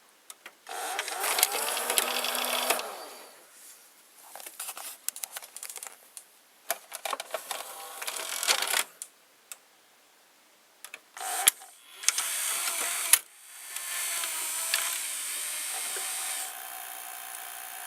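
GoldStar GHV-51FM VCR with a side-mounted motor loading a tape, producing whirring motor runs interspersed with clicking and ratcheting mechanical clatter, stopping and restarting in stages, close and moderately loud with no talk.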